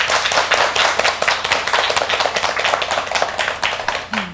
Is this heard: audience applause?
yes